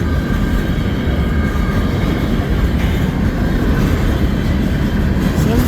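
A CN freight train, S772, rumbles steadily past at West Ladysmith, a loud continuous low roar of rolling wagons with faint clatter and no voices.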